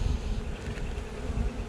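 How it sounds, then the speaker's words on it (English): Honey bees buzz around an open hive box during an early-season check of a late-season split, with a dense, continuous drone of many wings close to the microphone and some wind rumble underneath. "Looking at this bee right here."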